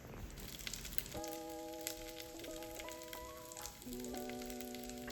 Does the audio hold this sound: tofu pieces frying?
yes